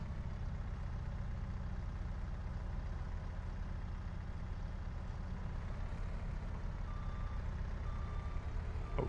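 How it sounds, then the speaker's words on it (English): A truck rumbles low and steady close by while backing up, with reversing beeps faintly audible over the engine drone near the end and no voices. "And then I'll move the truck away"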